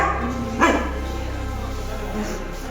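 A dog at a trekking lodge on the Mardi Himal trek in Nepal gives a single short bark, close by, over a steady low hum in an indoor room.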